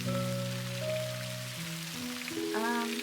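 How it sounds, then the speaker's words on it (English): Steady rain ambience plays in the video game MakeRoom, an even hiss of falling rain that runs the whole time, with soft tonal game music layered underneath. "oh, it's raining outside"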